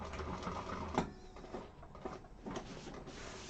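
Sewing machine stitches quilt pieces at a 3/8 inch seam with a faint, steady mechanical whir and a few soft knocks, close and quiet, with no talk.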